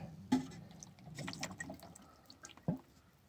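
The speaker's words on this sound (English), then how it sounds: "I'm going to pour another half a quart roughly." Hydraulic oil poured from a pail into the tank of a Vermeer wood chipper, a quiet liquid trickle with a few brief drips and knocks, heard up close without talk.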